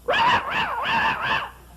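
Voice actor someone imitates a small dog with a quick series of high, yappy, whining barks.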